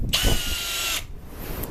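A Milwaukee M18 Fuel drill running in drill mode at speed 2 drives a screw into wood: a loud, steady high-pitched motor whine for about a second that cuts off abruptly, leaving a quiet tail.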